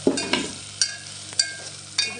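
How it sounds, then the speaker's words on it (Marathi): Asafoetida (hing) dropped into hot oil for masala rice, giving a steady sizzle with four sharp clicks of a spoon against the pan at regular intervals, close and moderately loud, with no talk. "आता आपण ह्याच्यामध्ये टाकणार आहोत हिंग."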